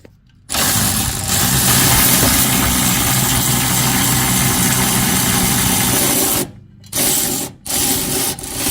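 An electric tool spins off the 21 mm bolts holding a Ram 1500 rear bumper step, giving a steady, loud whirring grind for about six seconds, then two short bursts after brief pauses.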